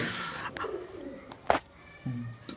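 A black lace satinette pigeon coos nearby in a few short, low, rolling calls, with brief chirps and faint background noise between them.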